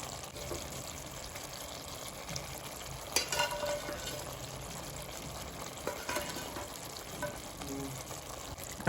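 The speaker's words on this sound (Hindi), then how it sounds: "इसको अच्छे से मिला लेंगे" Fried prawns being stirred into a cooked tomato and onion gravy for a hotel-style prawn curry, giving a steady soft sizzle with scraping stirs and a couple of louder clatters.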